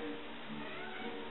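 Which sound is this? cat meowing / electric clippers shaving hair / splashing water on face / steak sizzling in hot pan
cat meowing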